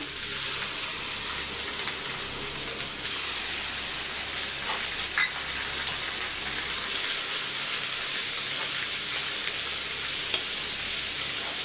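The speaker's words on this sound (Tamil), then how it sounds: "இப்போ பூண்டு நல்லா வதங்கினோன்னே பீட்ரூட்டை சேர்த்துட்டோம்" Beetroot frying with garlic, and soaked chana dal for a poriyal, gives a steady, even sizzle and hiss that carries on for several seconds, with a few light stirring clicks and no voices.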